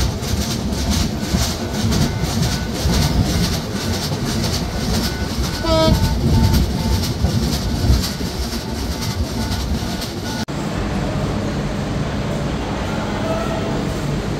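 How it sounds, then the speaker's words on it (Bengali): Padma Express passenger train running near the Jamuna rail bridge and Bangabandhu Setu East station, a steady loud rumble and rhythmic wheel clatter heard from inside a carriage, with a brief horn-like tone partway through. "আমাদের ট্রেনটি প্রবেশ করেছে বঙ্গবন্ধু সেতু পূর্ব রেলওয়ে স্টেশন"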